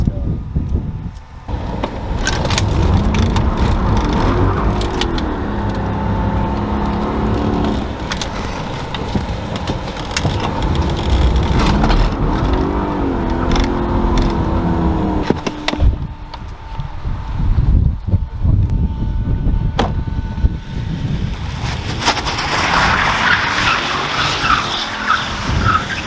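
A car drives with tires skidding and squealing in repeated bursts over a loud engine and wind rumble, close to the microphone, with people talking and shouting over it.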